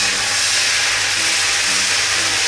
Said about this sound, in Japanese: はい、入れて、蒸し焼きにします。